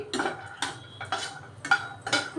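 Lentil dumplings (bori) are stirred in a little oil in a wok: five sharp metal spoon scrapes against the pan at a regular pace, close and clear with no talk.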